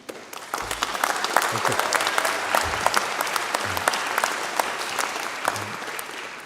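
A university graduation audience applauds students from the faculty of Health, Education and Life Sciences crossing the stage, dense steady clapping with a few sharper individual claps and low thumps scattered through it.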